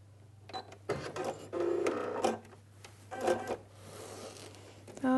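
A Brother sewing machine fitted with a dynamic walking foot stitches fabric in short, quiet runs of rapid mechanical whirring, separated by brief pauses over a low steady hum.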